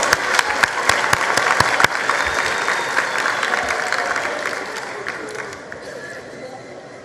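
Audience applause at the 2023 matric results announcement, a full crowd clapping loudly with a few crisp close claps early on, then gradually thinning and fading out over several seconds.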